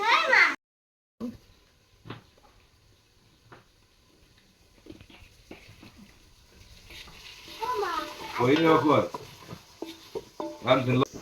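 Tomatoes sizzle and spatter in a hot pan, quiet at first and growing louder with stirring scrapes toward the end, with a voice speaking now and then.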